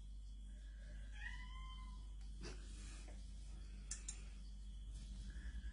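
Cats meowing indoors at home, a few faint rising and falling meows spread across several seconds over a steady low hum, with scattered small ticks and clicks and no talking.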